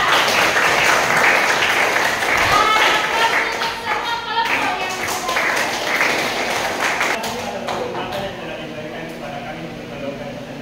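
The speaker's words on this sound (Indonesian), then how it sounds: "Aplaus untuk kelompok 4." A classroom group claps for group 4 after a maths presentation, a dense burst of applause that slowly thins and fades over about ten seconds, with scattered voices mixed in.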